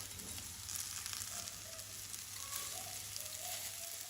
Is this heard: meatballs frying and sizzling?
yes